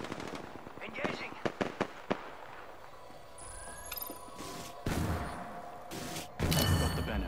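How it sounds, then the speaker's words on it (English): Video game gunfire aimed at the player, with scattered sharp shots and cracks early on, then sustained electronic whines and blasts, mixed with game effects and a person talking. "They're shooting at me?"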